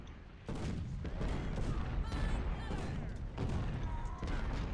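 Rolling infantry volley fire from a Civil War strategy game, a dense crackle of overlapping musket shots that swells from about half a second in and keeps rumbling loudly to the end, with faint speech mixed beneath.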